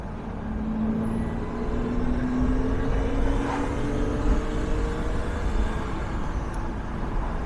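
A modified Jaguar E-Type V12 engine revs during a downshift, a steady droning roar with a rising and falling engine tone early on, heard close and continuous under broad road noise.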